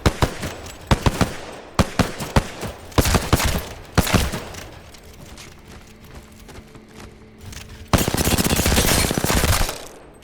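SMG gunfire in Apex Legends: sharp, close bursts of rapid shots in irregular clusters, ending in one sustained automatic burst, with no talking.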